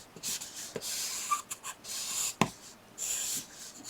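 A pen sketches lines on paper while drawing a figure's pants, making soft scratchy strokes in short bursts, close and quiet with no talking.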